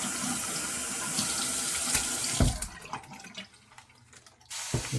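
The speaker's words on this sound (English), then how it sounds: "A little bit of water in this bowl." Tap water runs steadily into a shaving soap bowl, a close, continuous splashing stream that cuts off near the end before a brief resumption.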